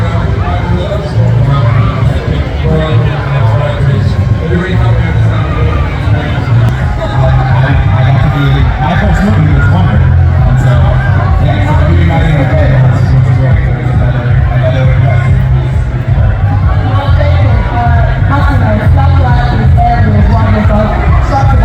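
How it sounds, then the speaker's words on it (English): A dense crowd roars and cheers continuously for performers at a London event, a loud, sustained wall of voices and whoops close around the listener without letup. "all the crowd were going mad for them"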